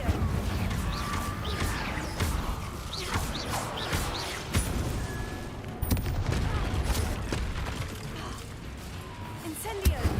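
Fire-spell casting in a Harry Potter-style video game: repeated whooshing magical bursts and crackling impacts amid a busy, dense game soundscape, with sharp hits punctuating the steady din and a loud strike near the end.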